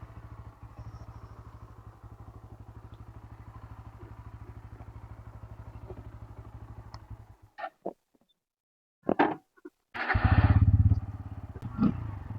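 Bajaj Pulsar N160 motorcycle idling with a steady close engine putter for about seven seconds, then cutting out briefly before a sharp, loud rev and rough running near the end.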